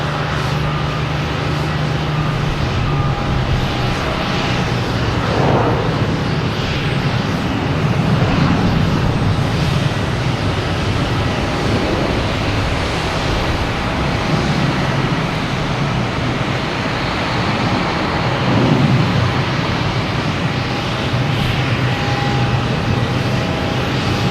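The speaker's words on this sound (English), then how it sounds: "we have JetBlue heading to San Diego. An A321, flight 319." A JetBlue Airbus A321 at Boston Logan Airport produces a long, steady jet rumble, fairly loud and rising and easing slightly over time, with no speech.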